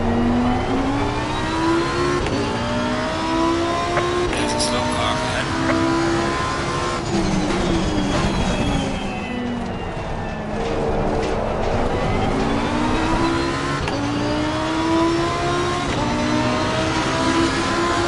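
A race car engine at Donington Park roars loudly and continuously from on board, revs climbing and dropping through several gear changes including downshifts, with a faint voice under it.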